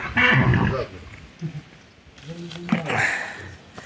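Khari the stallion whinnies near the mares Sonya and Lisa, a loud close neigh at the start and another later, with people talking nearby between the calls.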